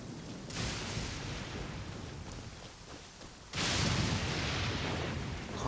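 Lightning strikes in Genshin Impact: two loud, broadband crashes, the first lingering as a long rumble and the second bursting sharply a few seconds later, with no voices over them.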